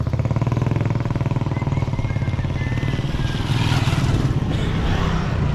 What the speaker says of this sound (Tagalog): Sandali lang, may mga motor.